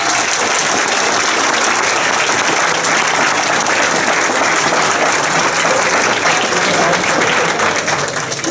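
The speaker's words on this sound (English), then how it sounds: "Let's give them all one more huge round of applause." Loud, dense round of audience applause for graduates at a leadership development ceremony, continuous close clapping from a large crowd throughout with no talking.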